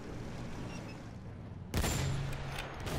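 A single loud gunshot from the player's gun in a war video game cracks midway through a low, steady rumble of background noise, followed by a lingering sustained tail.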